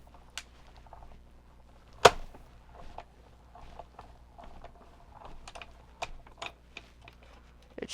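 A craft die-cutting machine cuts paper with a sparse series of light mechanical clicks and ticks, including one sharp louder snap, in an otherwise quiet room.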